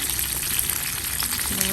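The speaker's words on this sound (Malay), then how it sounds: "Minyak letak dekat tepung. Ha, sebab tu dia pop-pop-pop tu." Battered dough fries in hot oil, a dense steady sizzle with small pops and crackles throughout, close and loud.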